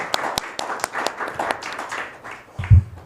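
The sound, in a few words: audience applause at press conference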